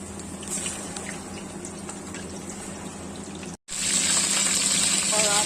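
Chicken wings in KFC-style crispy batter sizzle and crackle in very hot oil, a steady dense frying hiss that drops out for a moment and then returns louder and brighter.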